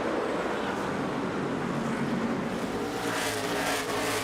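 NASCAR stock cars racing at Richmond Raceway make a continuous, dense engine roar from a pack of cars, with a car passing closer in the final second.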